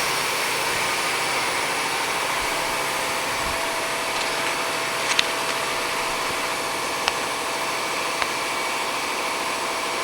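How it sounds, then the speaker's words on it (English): Brand-new SMTCL SMVMC1600B50T vertical machining center running, a loud steady whirring hum with a few brief clicks and clunks as the automatic tool changer works, no voices. "As soon as it goes to the next step, automatic tool changer."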